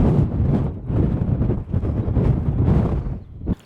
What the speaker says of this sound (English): It's been extremely windy on this half of the horseshoe.